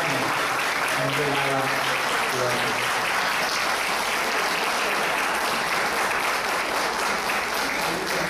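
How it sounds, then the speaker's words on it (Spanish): An audience at an academic event applauds a professor, sustained heavy clapping that stays full and even for the whole stretch, with a voice speaking over it early on. "un aplauso para la profesora Margarita Balmaceda"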